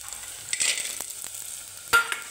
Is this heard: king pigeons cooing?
no